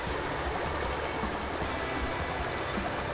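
A river on a farm flows in a steady, continuous rush of water, broadband and unchanging throughout, fairly loud and close with no voices.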